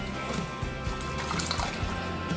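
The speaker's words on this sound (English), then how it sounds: "We're gonna wash our vegetables first." Running water as vegetables are rinsed in a kitchen sink while preparing ox tongue in cider sauce, a steady close splashing and trickling with no talk.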